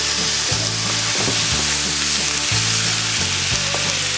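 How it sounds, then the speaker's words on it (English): Ground beef, a rack of pork ribs and meat bones sizzle steadily in a pan for a Sicilian meat sauce, with a loud continuous crackle and a low rhythmic scraping pulse about once a second, as if the meat is being stirred. "we got 2 pounds of ground beef, 1 rack rib pork, and some meat bones, which we're frying over here too."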